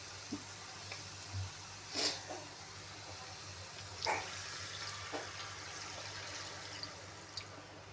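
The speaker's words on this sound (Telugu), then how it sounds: "ఇప్పుడైతే కొద్దిగా వాటర్ పోసుకున్నాం" Water splashes into a pan of egg curry in a few brief, quiet bursts, separated by pauses against a low background hum.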